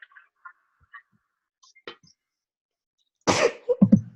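A single sharp human sneeze bursts out close and loud during a quiet team project meeting, preceded by faint clicks and small sounds and followed by a brief trailing sound.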